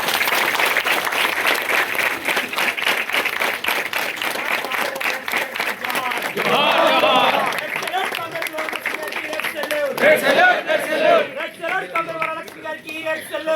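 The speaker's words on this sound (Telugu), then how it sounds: "అందరూ చప్పట్లు కొట్టాలి." A crowd claps steadily and densely at a ceremony where a body-donation form is signed for a medical college in Wanaparthy, the applause continuing throughout with voices talking over it.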